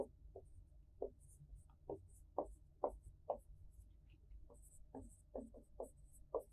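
Chalk or marker writing on a board in a classroom lecture: a series of short, distinct scratchy strokes in uneven rhythm, fairly faint against a quiet room.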